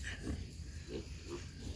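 A pig grunting at close range, with low snorts recurring about every half second over a steady low background rumble.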